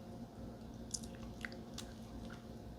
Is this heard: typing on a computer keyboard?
no